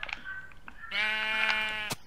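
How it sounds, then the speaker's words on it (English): Sheep in the Minecraft video game bleat several times, a few short calls followed by one long wavering bleat, clear and close with no talk over them. "There's a naked sheep roaming around in our house, I think."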